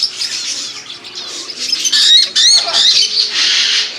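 Parrots inside a bird shop give loud, shrill squawks and chirps close by, thick and continuous, with a few sharper bursts midway.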